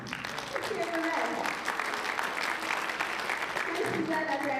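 A council work session audience claps to vote for the red team, a short burst of applause and cheering at moderate distance, with voices mixed in at the start and end.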